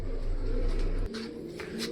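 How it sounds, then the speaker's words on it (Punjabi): A pigeon coos in a low, rolling burst near a rural home loft, followed by fainter rustles and brief soft noises, with no talk. "ਆ ਕਬੂਤਰ ਆ ਗਿਆ"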